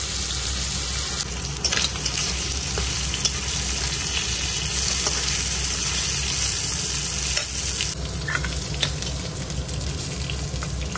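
Fish fries in a hot pan with a constant, dense sizzle close by, punctuated by occasional sharper crackles and spits, and no voices.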